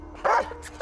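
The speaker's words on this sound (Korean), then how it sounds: "일단 무언가 발견했다 하면 짖고 달려드는" A dog barks at a cat, two short sharp close barks separated by a brief pause.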